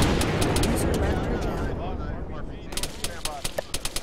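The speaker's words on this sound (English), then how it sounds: "We're taking heavy fire from the south, and we are taking mortars to the northeast." Heavy gunfire and mortar fire in a military video game, a dense continuous roar of shooting that thins into a run of distinct sharp reports near the end, with voices over the radio underneath.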